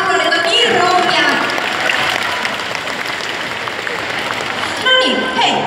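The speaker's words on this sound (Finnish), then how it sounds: "Annetaanpa hänelle vielä aplodit, on niin rohkea." A crowd applauds a fan who asked a question during a stage Q&A, steady clapping throughout with voices heard over it at the start and end.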